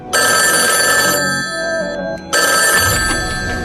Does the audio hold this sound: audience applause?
no